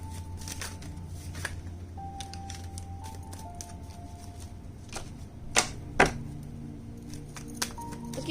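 Tarot cards being shuffled give off quick papery riffles and soft clicks at close range, with a couple of sharper snaps near the end, otherwise quiet.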